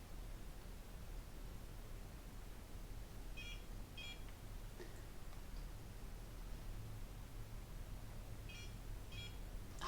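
Short electronic beeps from a Mojia Lift microcurrent device come in two pairs, each pair a quick double chirp, faint above a steady background hiss.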